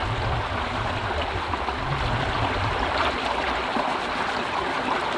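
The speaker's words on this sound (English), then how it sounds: "Wash the dirt and crap off my hands." Hands washed in a cold stream outdoors on a solo bushcraft overnight trip: steady close rushing and splashing water, continuous and alone.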